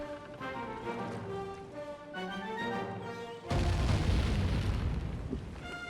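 Ship cannons in Sly 3 Honor Among Thieves, with a sudden heavy booming blast cutting in partway through and rumbling on beneath tonal game music, loud and close, without voices.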